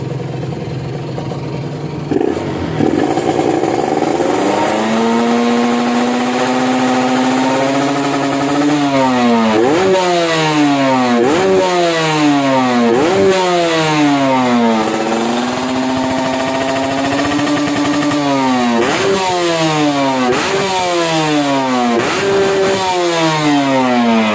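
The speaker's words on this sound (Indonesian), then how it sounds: "Motor sudah nyala, sekarang kita cek sound ya." A modified, restored Kawasaki Ninja RR SE motorcycle engine idles, then is revved again and again in quick, sharp bursts that rise and drop back, loud and close.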